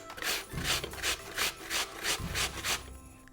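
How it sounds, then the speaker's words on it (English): A peeled apple or carrot rasped against a grater, about seven rhythmic back-and-forth scraping strokes, close and fairly quiet with no talk. "So once they're peeled, you can begin grating them."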